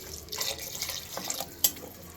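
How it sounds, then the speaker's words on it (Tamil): Water is poured into a cooking pot, a soft continuous splashing with a brief clink partway through, fairly quiet and close. "இது முழுகிற அளவுக்கு தண்ணி ஊற்றிக்கோங்க."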